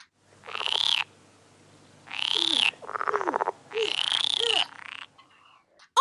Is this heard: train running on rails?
no